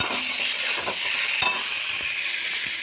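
Steady, loud sizzling of chicken frying in hot oil, with a few soft clicks of a utensil against the pan.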